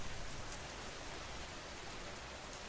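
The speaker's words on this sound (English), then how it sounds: "The rain hammered against the windows of Melissa's third-floor apartment in downtown Vancouver like bullets against glass." Heavy storm rain pours steadily against windows as a dense, even hiss of countless drops, constant and moderately loud throughout with no voices.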